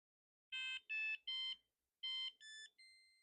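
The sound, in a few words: deep brain stimulation handset beeping when fully charged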